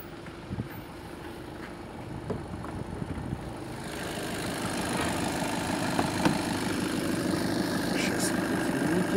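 A 2016 Skoda Octavia A7 with a 1.6-litre 110 hp diesel engine idles quietly and steadily, a low, even rumble that grows slightly louder partway through, with faint clicks and handling noises.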